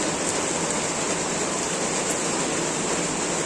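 Heavy rain pours steadily at a school on a rainy day, a dense, continuous hiss of water close by with no pauses and no voices.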